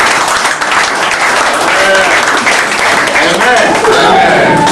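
A church congregation applauds at a prophet's deliverance service, with loud, dense, sustained clapping filling the space and voices mixed in.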